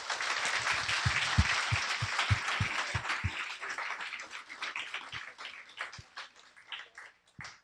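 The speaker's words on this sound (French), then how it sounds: "On peut vraiment les applaudir." Congregation at a church service applauding the children and youth leaders, a dense wash of clapping with sharp individual claps early on, gradually thinning and fading toward the end.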